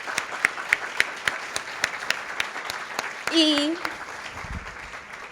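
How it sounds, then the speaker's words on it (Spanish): Scattered audience applause at a congress, sparse individual claps spaced out across the room, with a brief voice breaking in partway through. "un fuerte aplauso para todos ustedes"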